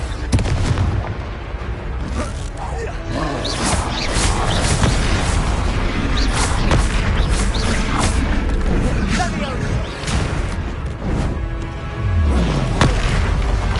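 Booming Confringo explosion spells crack and thud amid loud combat effects and music in the Hogwarts Legacy video game, repeated hits dense and close, with voices shouting over the battle.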